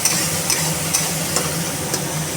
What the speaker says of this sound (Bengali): আর একটু ভালো করে মশলাটা কষিয়ে নেব